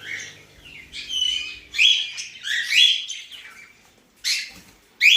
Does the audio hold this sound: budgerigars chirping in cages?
yes